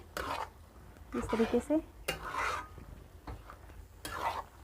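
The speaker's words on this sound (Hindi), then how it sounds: "अब इसमें भिंडी डालेंगे। इसको मिक्स करेंगे अच्छे से" A spoon scrapes and clinks against a pan while fried okra is stirred into a spiced yogurt gravy, giving a few short metallic knocks and scrapes between soft spoken words.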